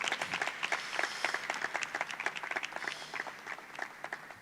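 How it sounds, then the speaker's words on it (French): Audience applause at a church youth event, with a moderate crowd clapping in distinct, fairly close claps that thin out and soften toward the end. "Sous vos applaudissements"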